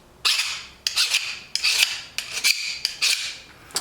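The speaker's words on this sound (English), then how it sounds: "it will file that hardened steel" A Titan file rasps across the factory heat-treated hardened steel of a chisel in several short, gritty strokes with small gaps between them, close and fairly loud.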